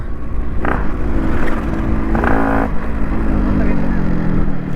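Engine of a Yamaha RX 135 two-stroke motorcycle drones loud and close with a raspy, buzzing tone and small revving swells, while people talk over it.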